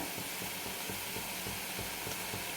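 Tomato gravy with coriander powder, kasuri methi, garam masala and chicken masala fries in a pan, giving a steady close sizzle and hiss with soft stirring scrapes throughout.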